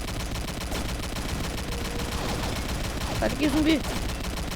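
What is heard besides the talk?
gunfire in the video game Combat Arms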